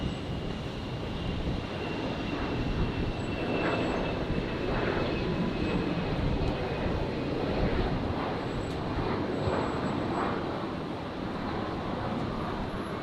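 An aircraft at Brisbane International Airport on a Sunday afternoon gives a steady, broad engine roar that holds evenly for the whole stretch, fairly distant, with no voices over it.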